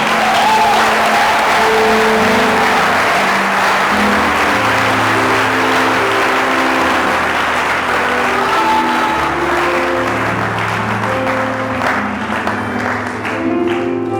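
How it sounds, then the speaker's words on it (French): A French church congregation at a Sunday worship service breaks into loud, sustained applause in praise of Jesus, many hands clapping steadily throughout, with organ or keyboard chords sounding beneath the crowd. "Est-ce que tu peux acclamer pour la gloire de Jésus?"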